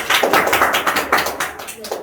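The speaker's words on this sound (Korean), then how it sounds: "우리 친구들 박수 한번 쳐주세요." A small group of high school students clapping briefly in a classroom, a loose patter of close hand claps with uneven rhythm over roughly two seconds.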